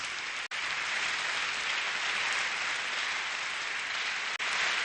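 An audience at a live concert in Nuoro claps loudly and steadily for several seconds. The dense applause barely dips and carries no voices.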